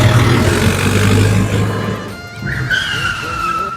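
A tractor pulls up at a house, its engine running loud and close with a steady low rumble that shifts pitch as it slows, with some skidding noise and no speech.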